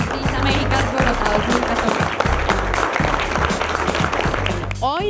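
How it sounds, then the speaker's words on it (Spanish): Loud applause for Colombia's national team at the WorldSkills Americas Bogotá practice competition, mixed with a strong rhythmic music beat and a brief swooping sound near the end. "Un fuerte aplauso a la Selección Colombia de World Peace Américas Bogotá"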